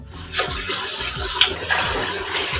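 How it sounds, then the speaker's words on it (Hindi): Plain water poured from a glass into a cooking pot for Hyderabadi beef yakhni biryani, a steady close splashing pour running continuously for a couple of seconds with no voices. "तो 2 गिलास हम इसमें सिंपल पानी डालेंगे"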